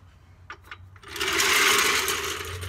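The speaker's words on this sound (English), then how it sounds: "Get your trusty dusty impact with the 10 millimeter under." A cordless impact wrench with a 10 millimeter socket on an extension spins clutch bolts on a 2015 Mustang GT during a McLeod RST twin disc clutch install, giving one sustained loud whir after a few short taps, close to the microphone.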